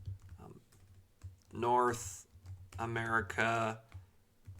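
Keyboard typing on a computer while entering region names into an Excel spreadsheet, soft clicks running under a man's speech throughout.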